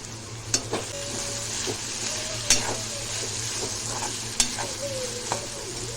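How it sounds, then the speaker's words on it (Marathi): Okra frying in oil in a pan is stirred, with a steady sizzle under several spaced scrapes and clinks of the utensil against the pan and no voices. "परत हे सगळं मिक्स करून घेऊया"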